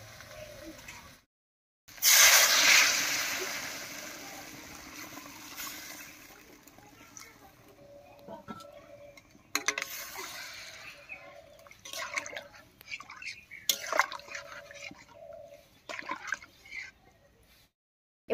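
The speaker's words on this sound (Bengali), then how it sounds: "এবারে ঝোলের জন্য জল দেব।" Water is poured into a pan of rohu fish curry cooking with mukhi kochu taro and spices, a trickling, splashing fill that starts loud then fades into quieter drips and stirring sounds in a home kitchen.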